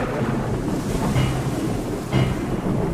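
Rough storm waves crash in a continuous roar, with two louder surges breaking about a second apart over the constant churning wash and wind.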